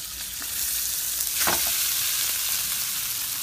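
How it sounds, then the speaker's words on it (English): Vegan ground meat substitute sizzling steadily in a heated pan as it is stir fried, a continuous frying hiss with a few brief scraping stirs, close and fairly loud, no talk. "I'm going to go ahead and stir fry this or fry it up a little bit"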